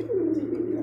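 A sky-blue Rasgolla pigeon giving a single short, low cooing call that wavers slightly in pitch, close to the listener and alone.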